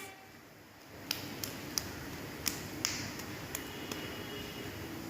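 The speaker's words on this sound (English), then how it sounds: "Clap your hands." A small child's hands clapping during a preschool action-song activity, about seven sharp, fairly evenly spaced claps over a quiet room hush.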